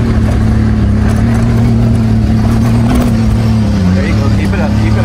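A car engine holds high RPM in a low gear while the wheels spin for traction, a steady loud drone with slight pitch shifts near the end, with people talking over it.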